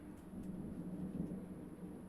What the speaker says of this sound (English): it wasn't supposed to thunderstorm now